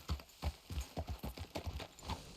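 Horse hooves clip-clop in a steady, close rhythmic walk on a hard path in the video game Red Dead Redemption 2, each footfall a distinct knock, fairly quiet.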